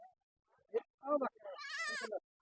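At a goat farm, a nearby goat gives a loud wavering bleat after a couple of shorter calls, set against an otherwise quiet background.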